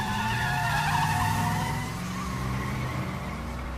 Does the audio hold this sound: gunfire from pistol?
no